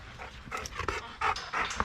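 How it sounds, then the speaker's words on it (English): Pet dog named Blue panting close by in quick, breathy bursts, with a few louder puffs toward the end and no talk over it. "That's my dog, Blue."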